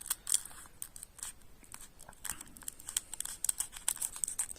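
Scissors snip open a Magic: The Gathering Lost Caverns of Ixalan booster pack, close and quiet, with small crinkles of the foil wrapper between several light cutting clicks.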